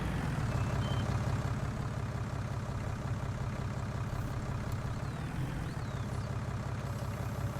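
A tractor strains under a heavy plow in Farming Simulator 19, its engine chugging in a loud, steady low rumble throughout with no pauses or voices.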